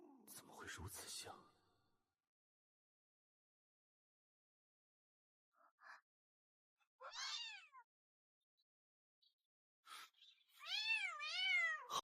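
A cat meows in several separate cries with pauses between, the last one longer and wavering, heard close and clear in a quiet room, with a brief breathy sound at the start.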